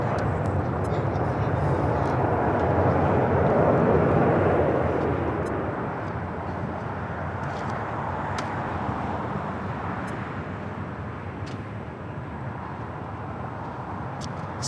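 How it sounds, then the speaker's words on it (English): An Airbus A330 arriving from Mexico City lands at LAX, a broad jet rumble loudest early on that gradually fades and thins, with voices talking throughout. "A330 touching down from Mexico City"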